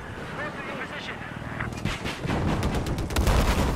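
Helicopter gunner firing in Battlefield 4 on the Golmud Railway map, repeated bursts of loud shots and booms building toward the end, with players talking over them.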